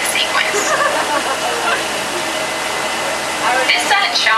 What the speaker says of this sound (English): This sudden shower is really just a special effect. We've rigged up a series of water nozzles just above your trim.